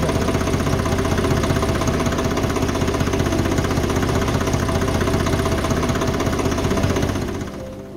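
Swaraj 735 FE tractor diesel engine running just after starting, a loud, close, steady idling chug with rhythmic knocking that holds for about seven seconds before fading slightly.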